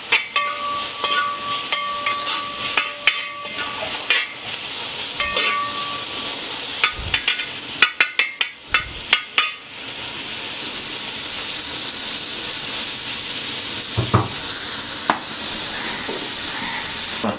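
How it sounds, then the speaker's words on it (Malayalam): Beef frying in an uruli, a traditional Kerala bronze pan, for a dry roast: a steady loud sizzle with bursts of spoon scraping and clatter while stirring, no voices. "എന്നിട്ട് നമ്മൾ ഇളക്കി കൊടുക്കുന്നു"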